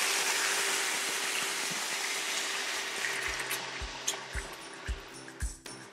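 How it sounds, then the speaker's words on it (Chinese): A little water goes into a hot pan of frying grouper fillets, raising a loud, close hiss of sizzling steam that gradually settles, followed by a few soft thumps. "然后下一点点的水。"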